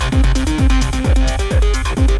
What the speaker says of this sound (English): get this old school, gnarling, aggressive synthesizer sound